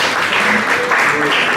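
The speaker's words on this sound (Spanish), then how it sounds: "Podemos aplaudir al Teatro Estudio también." Audience in a small hall applauds Teatro Estudio at a talk with Cuban actress Amada Morado, close, dense clapping from many hands held steady throughout.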